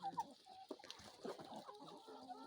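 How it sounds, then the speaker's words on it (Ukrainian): Domestic hens and ducks clucking and quacking in a small backyard flock, a faint, scattered run of short calls at moderate distance. "Такі мої курочки і качечки."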